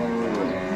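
A cow at a Javanese livestock market lets out a sustained, loud, close moo with a steady droning tone, heard alone without talk over it.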